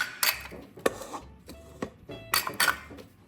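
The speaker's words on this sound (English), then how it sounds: "I'm going to make a little bit noise, so mix them well for about 1 minute." Utensil working Philadelphia cream cheese and sour cream together in a bowl for a pumpkin loaf filling, giving close, irregular knocks and scrapes against the bowl in quick bursts, with no talking.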